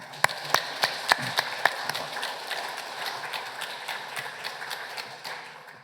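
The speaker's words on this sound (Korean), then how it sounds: "지금껏 60년 동안 우리와 함께 하신 하나님께 우리 다 같이 영광의 박수 한번 드리겠습니다." Congregation clapping during a Sunday church service, a few sharp, distinct claps at first that build into a steadier patter of many hands before tapering off, heard alone without voices.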